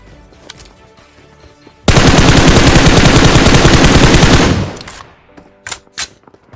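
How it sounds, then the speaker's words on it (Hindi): A sustained burst of rapid automatic gunfire in the video game BGMI, loud and close, rattling for a few seconds before cutting off, followed by a few sharp scattered clicks. "मुझे सामने से गोलियां चलने की आवाज आती है"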